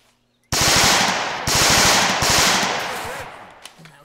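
Rapid bursts of heavy machine-gun fire in a video game (Easy Red), loud and close, in two or three sustained volleys with clattering shots, fading slightly toward the end.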